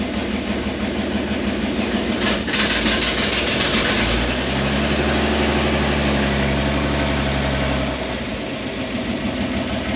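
An old vehicle's engine, back to life after sitting 15 years, runs loud and steady close by, its low rumble shifting in pitch partway through as if put into gear, then settling again.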